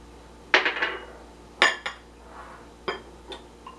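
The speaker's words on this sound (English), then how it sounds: "give it a stir just with my little whisk here and get all the dry into the one bowl" A small whisk clinks against a bowl while stirring baking soda into all-purpose whole wheat flour, in a few separate bright bursts of metallic tapping with pauses between them.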